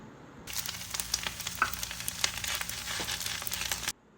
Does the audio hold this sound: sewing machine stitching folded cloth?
no